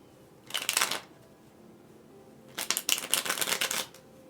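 Two short bursts of handmade tarot cards being shuffled close by, a quick rapid riffling flutter, then a pause, then a longer second shuffle, in an otherwise quiet room.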